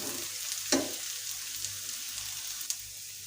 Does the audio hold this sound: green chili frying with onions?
yes